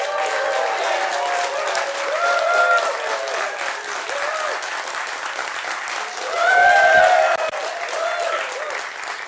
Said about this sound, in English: I want you guys to clap and applaud and be excited